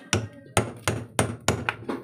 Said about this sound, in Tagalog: pukpukin lang natin ng martilyo para matanggal natin yung pulley